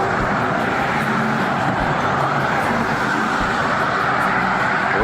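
Steady, dense roar of passing road traffic beside a walking route at sunrise, a continuous broadband wash with no breaks and no voices.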